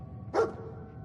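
Dogmeat, the companion dog in Fallout 4, gives a single short, clear bark close by against a quiet backdrop.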